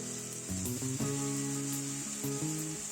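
A ground spice paste sizzles steadily in a hot pan with fried eggplant, a continuous hiss with a melodic tune playing in the background.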